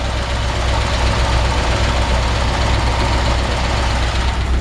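A 1953 Ford F-100 with a flathead V8 idles close by, giving a loud, constant rumbling drone with a slightly rough, knocking texture and no voices.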